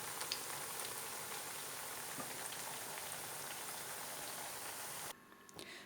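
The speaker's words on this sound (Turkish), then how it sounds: "Patlıcanlarımızı kızartarak işimize başlıyoruz." Steady crackling sizzle of eggplant frying in hot oil, a dense patter of pops that continues evenly before dropping off abruptly near the end.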